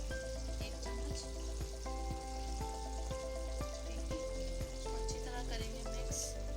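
Spices and tomatoes fry in a pan for egg and potato dum biryani, giving a steady, close sizzle with regular clinks of a spoon stirring throughout.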